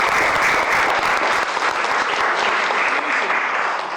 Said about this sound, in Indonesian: tepuk tangan dulu boleh ya